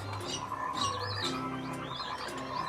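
Animatronic birds in a birdhouse at Disneyland chirp and coo in short repeated calls over a busy park background hum, moderately loud and without talk.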